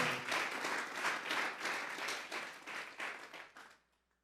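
A church congregation claps together as an offering of praise to God, a dense, steady burst of applause that swells, holds for a few seconds, then fades out into silence.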